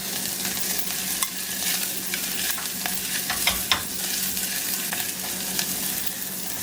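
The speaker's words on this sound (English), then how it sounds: "We'll keep on mixing the onions and see if the onions can pick it up" Onions frying for pizza sauce are stirred in a hot pan, giving a loud, steady sizzle overlaid with repeated scraping and clicking strokes of the spoon, close up, with no talking.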